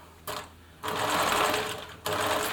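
Bernina Nova 900 electronic sewing machine stitching at a short stitch length, heard in three bursts of steady, close whirring separated by brief pauses, with no talk.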